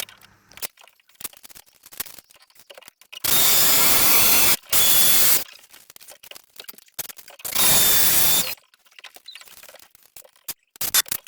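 An SDS drill fitted with swapped bits while installing a UPVC window runs in two loud, sustained bursts of several seconds each, separated by quieter clicks and handling noises.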